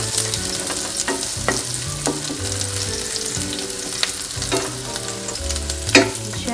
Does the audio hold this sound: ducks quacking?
no